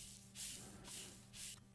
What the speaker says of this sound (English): I resampled that noise into a new layer called kick noise